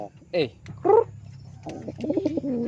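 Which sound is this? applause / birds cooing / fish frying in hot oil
birds cooing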